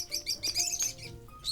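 A bird chirps in a series of quick, high tweets, fairly close and clear, with short pauses between bursts.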